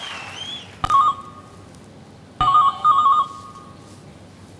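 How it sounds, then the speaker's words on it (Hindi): A mobile phone ringtone plays in two short bursts of a repeating electronic melody, separated by a pause, loud and close. "किसका फोन बज रहा है भाई?"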